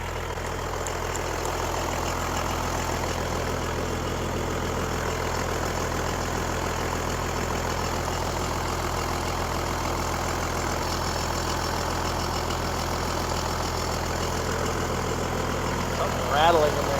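A Cummins diesel engine in a Chevy pickup truck idles with a steady low rumble and faint knocking throughout, close by, with a voice heard briefly over it.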